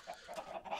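Faint, muffled chicken clucks from Minecraft, soft and low in level, blending into a hazy background over under a second.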